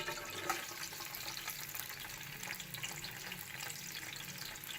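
About 400 grams of sliced onions fry in hot oil while being browned for beef nihari, giving a soft, steady bubbling sizzle that stays faint and even for a few seconds, with no voices.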